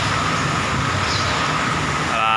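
Late-afternoon road traffic on Jalan Raya Kutawinangun makes a steady, dense roadway roar of passing vehicles close by, with a faint engine hum rising at the end.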